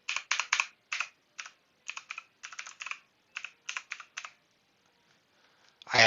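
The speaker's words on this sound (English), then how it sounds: "Type in the site." Someone types a website address on a computer keyboard, with crisp close key clicks arriving in quick bursts and short pauses before falling quiet.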